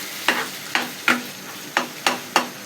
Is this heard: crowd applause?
no